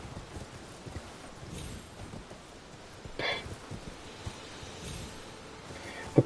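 Horse hooves clip-clop at a steady walking rhythm in the video game Elden Ring, soft and close over a rustling background, with a brief louder swish partway through and a sharp knock at the end.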